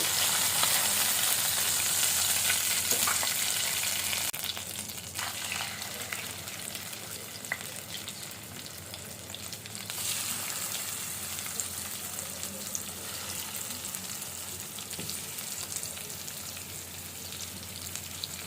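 Chicken burger patties fry in hot oil with a continuous bright sizzle and crackle that is loudest at first and then settles into a steady hiss.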